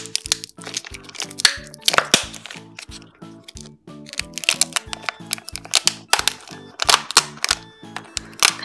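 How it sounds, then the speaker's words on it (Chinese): A Hello Kitty surprise egg is unwrapped by hand, with sharp crinkling and crackling foil or plastic in irregular bursts, close and fairly loud, with no talking. "我们现在把这颗卡地猫奇趣蛋拆开吧"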